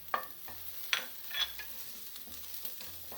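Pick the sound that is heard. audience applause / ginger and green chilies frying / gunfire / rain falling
ginger and green chilies frying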